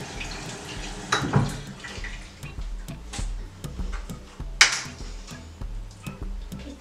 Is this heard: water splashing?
yes